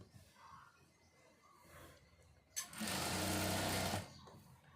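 A sewing machine stitches piping in one steady, loud burst of a little over a second, close by, after a quiet stretch of faint handling noise.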